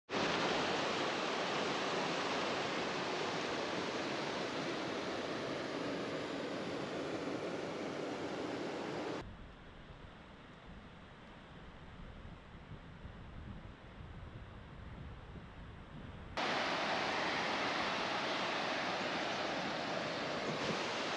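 A waterfall in the Scottish Highlands along the Cape Wrath Trail roars as a steady broadband rush, loud at first, then dropping to a muffled, quieter wash before returning at full strength; no one speaks.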